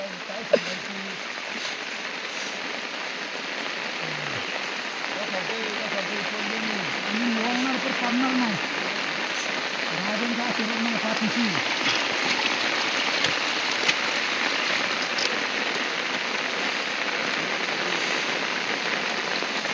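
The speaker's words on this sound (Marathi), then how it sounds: "पावसाने अगदी जोरात हजेरी लावली. एका एकीतच पाऊस आला" Heavy rain pours steadily at Torana Fort, a hillside fort trek in mist, giving a continuous broadband hiss throughout, with low voices murmuring underneath.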